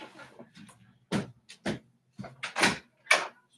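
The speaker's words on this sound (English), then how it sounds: "She's like flinging open the door." A door is flung open indoors in a series of sharp knocks and bangs, several short, loud impacts spaced irregularly over a few seconds with quiet gaps between them.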